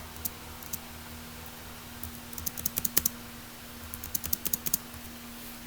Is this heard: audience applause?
no